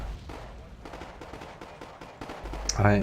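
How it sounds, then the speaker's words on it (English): Abbott self-propelled artillery rounds firing in the Cold War strategy game Wargame: AirLand Battle, a dense run of muffled booms and impacts at moderate volume, with a louder burst near the end. "That's my Abbott rounds, not very accurate"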